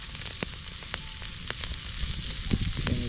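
Wild garlic and bacon sizzle in a pan over a campfire, a soft, steady crackle with scattered sharp pops and spits, fairly quiet and close with no voices.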